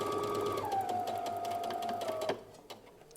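A sewing machine stitching a seam with a backstitch runs as a steady, close mechanical whir that shifts in pitch partway through, then stops abruptly, leaving quiet handling noises.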